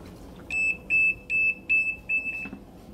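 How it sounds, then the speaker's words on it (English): Compact portable top-load washing machine sounding its safety alert when the lid is opened mid-cycle: a series of five or six short, bright electronic beeps in a regular rhythm, fairly near, over faint background noise. "So you know if it's running and your child opens it, that's gonna beep."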